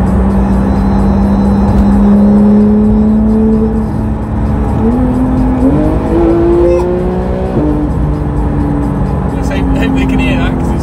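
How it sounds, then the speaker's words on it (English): Porsche 911 GT3 fitted with a Sharkworks exhaust, heard from inside while driving, its engine note rising and shifting through gears as a steady loud drone with tire noise underneath. "that noise is the new Sharkworks exhaust"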